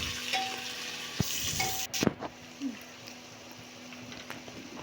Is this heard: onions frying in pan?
yes